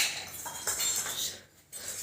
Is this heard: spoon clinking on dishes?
yes